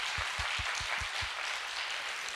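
Steady applause from a church conference congregation, a dense wash of clapping that holds evenly throughout.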